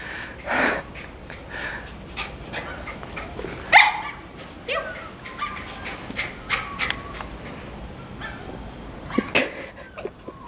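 A puppy barks and yips during a training session in a house, several short sharp barks scattered across the stretch with a whimpering tone, over faint background noise and occasional indistinct voices.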